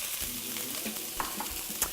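Brussels sprouts sizzle in a hot pan, a steady frying hiss dotted with small crackles and pops, close and fairly quiet.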